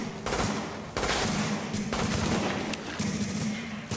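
Rapid bursts of turret gunfire in The Division video game, dense rattling volleys in several stretches separated by brief pauses, loud and sustained with no talk over it.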